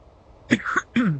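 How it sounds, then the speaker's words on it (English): A person coughs twice in quick succession, close and dry, with a short throaty rasp, during a gaming session with no other sound around it. "I'm coughing"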